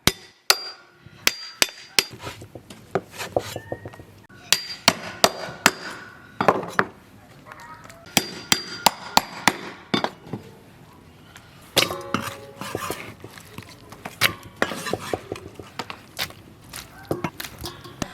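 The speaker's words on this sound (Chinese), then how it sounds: "鸭头也一剁两半。" A cleaver chops duck heads and necks in half: a steady run of sharp, close, loud chopping thuds, some single and some in quick pairs, with brief pauses between bursts.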